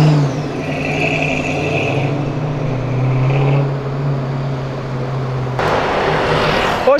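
An Alfa Romeo 4C sports car runs with a steady engine drone and whir that climbs and then holds. A louder, brighter surge near the end sounds like it is revving or passing close by.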